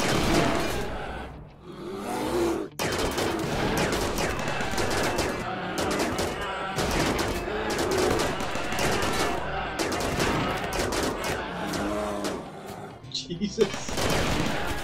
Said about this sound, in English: I do hate the turrets are firing before these things are even round the corner